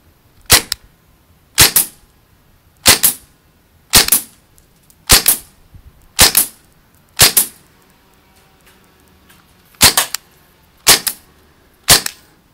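An Ingram M11 airsoft gun by ASG fires single semi-automatic shots, ten sharp close cracks spaced about a second apart with a short gap midway.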